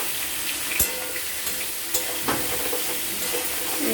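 Spice paste (masala) sizzling and frying in a pan, cooked for a fish-head dish with pumpkin and potato; a steady close hiss runs throughout, broken by a few sharp scraping stirs, with no talking.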